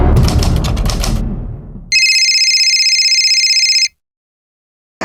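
A telephone trills in one sustained electronic ring lasting about two seconds, preceded by a burst of clattering noise, then silence and a brief restart.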